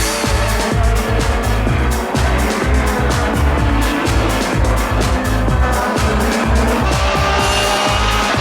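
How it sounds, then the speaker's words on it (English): A BTCC Ford Mondeo race car at Donington Park in 1993, its engine roaring loud and sustained on track with a rapid pulsing rhythm through gear changes, alone without talk. "Now the engine's come back."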